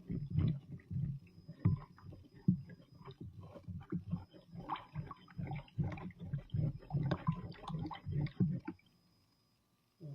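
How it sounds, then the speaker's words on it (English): A sourdough mixture is stirred in a bowl, producing close, wet squelching and slapping strokes in an irregular rhythm that stop abruptly near the end. "I'm gonna stir that real good"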